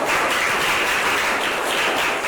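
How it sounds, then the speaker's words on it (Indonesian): Classroom students applauding together, a dense, steady burst of clapping lasting a couple of seconds, close and loud with no voices over it. "Beri tepuk tangan dong teman-temannya."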